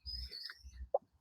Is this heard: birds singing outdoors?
yes